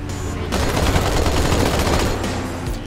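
Rapid gunfire in the Halo 2 video game, a loud continuous burst of automatic shots that rattles on for nearly three seconds.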